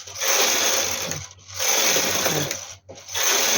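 Knitting machine carriage sliding across the needle bed while knitting a lace sweater, a loud whirring mechanical rattle in three sweeping passes separated by brief pauses.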